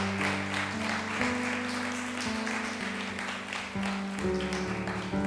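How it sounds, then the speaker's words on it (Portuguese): Church congregation applause, moderate and fairly distant, carried under prominent sustained keyboard or organ chords that shift through the passage. "Dê uma salva de palmas para Jesus."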